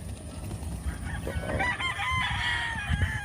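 A gamefowl rooster on a Philippine breeding farm crows once, a rising, drawn-out call standing out over low farmyard background noise, moderately close with no talk.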